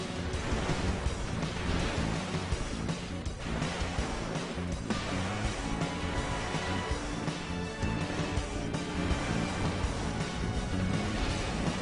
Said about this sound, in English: A bit of a rainy day out.